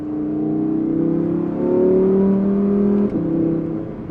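An Audi R8 V10 engine with a titanium exhaust revs up and holds a high, smooth tone, dips briefly, then climbs again, loud and close with a harmonic exhaust note.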